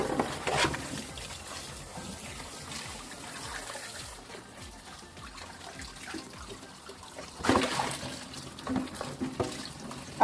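Meat is washed by hand in water, giving continuous trickling and sloshing at close range, with a louder burst of splashing near the end.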